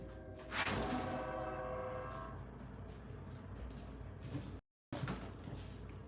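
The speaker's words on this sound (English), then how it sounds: "the train horn is coming through. You guys hear that?" A train horn blares near the tracks, its long chord-like blast fading as the train rumbles past in a steady broadband roar, followed by a brief dropout.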